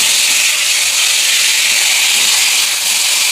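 Potol, bitter gourd and lentil dumplings (bori) dropped into hot oil with panch phoron and a bay leaf, frying in a loud, dense, unbroken sizzle.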